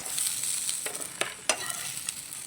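Vegetables sizzling in oil in a pan while cooking a coriander-tomato chutney, a steady hiss with a few sharp crackles and pops standing out.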